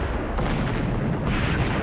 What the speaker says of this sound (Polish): Emden podkrada się bliżej i oddaje 125 strzałów